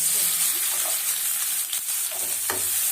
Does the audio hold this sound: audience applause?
no